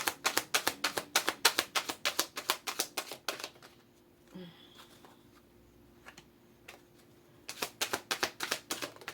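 Tarot deck shuffled by hand in quick bursts of crisp riffling card flicks, a steady run at the start, a quiet pause with a faint voice, then another rapid shuffle close up.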